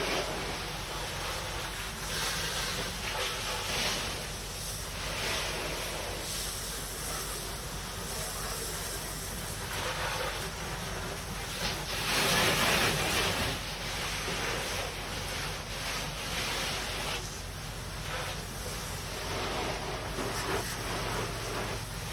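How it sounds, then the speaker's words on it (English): A hose sprays water steadily over a portable toilet unit being rinsed clean: a continuous broadband hiss and splatter, close and fairly loud, with slight surges in intensity throughout. "we are going to take our hose once again and spray off the rest of the unit"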